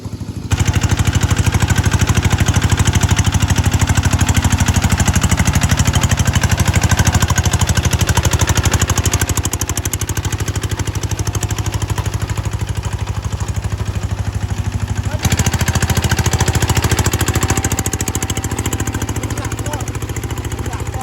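A G1000 engine being test-run throbs loudly and steadily for the whole stretch, a continuous close mechanical drone with a slight shift in tone partway through.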